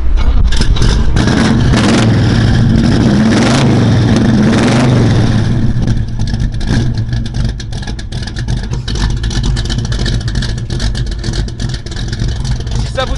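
A Ford Mustang V8 fitted with Edelbrock heads and valve covers starts and revs, first loud and close with a broad, throaty roar, then settles into a steady, slightly quieter rumble for the rest of the stretch.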